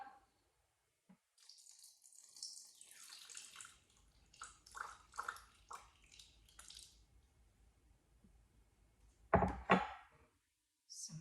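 Water poured from a tap into a mixing bowl while making gluten-free hot cross buns, a soft trickling run with a brief louder splash near the end, heard close up in a quiet kitchen.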